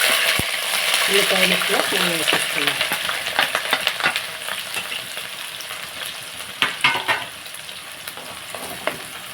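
Peas and brinjal curry frying in hot oil in a pan crackles with a continuous sizzle, broken by scattered clinks and scrapes of stirring, with a faint voice briefly underneath.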